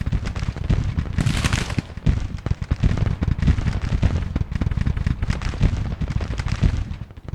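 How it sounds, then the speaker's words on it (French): Battle in the Civil War strategy game Grand Tactician, a continuous dense crackle of distant musket volleys and booming cannon fire, steady and loud throughout with almost no pause. "Allez, ça tire ici."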